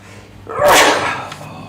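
A single sharp sneeze bursts out loud and close, a quick explosive burst that fades after about a second.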